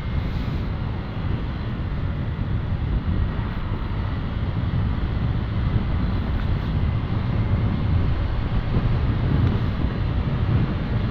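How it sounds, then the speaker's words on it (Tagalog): Strong wind roaring across the microphone while riding a 2017 Honda Click 150 scooter at half throttle, a constant loud broadband rush with no breaks and no voices. "Lakas pa ng hangin."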